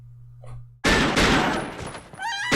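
A sudden, loud burst of rapid gunfire from the Sons of Anarchy episode "The Culling" breaks a near silence and continues as a dense, crackling volley to the end.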